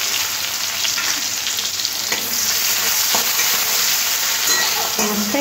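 Chopped onion fries in hot oil with tempering spices, a loud close sizzle with stirring scrapes throughout while the onion turns light golden for an ol-chingri curry.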